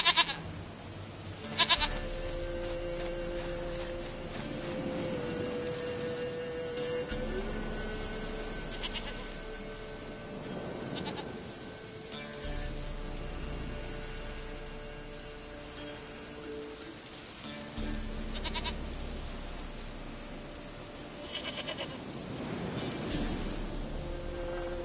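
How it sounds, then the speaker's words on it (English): A goat in a PlayStation 4 game bleats several times in short cries, over a steady rain-like ambient background and soft game music, with no talking. "Goat of mine, dearest, sweetest goat."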